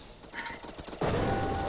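Rapid automatic fire from an upgraded pack-a-punch gun in Call of Duty Black Ops 3 custom zombies, a fast rattling burst of shots, close and loud, then a denser roar of fire.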